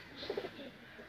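Kolkata-line Kalchira pigeons coo softly, a few quick low throaty notes close together, faint and brief with no voices.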